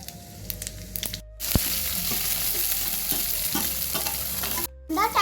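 Cumin seeds drop into hot oil in an iron kadhai and burst into a loud, sharp, steady sizzle that starts after a short quiet moment, then cuts off briefly near the end before resuming.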